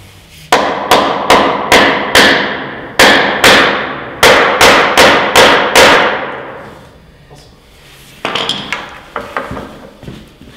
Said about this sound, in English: hold the head of the rivet in place when we hammer back down on it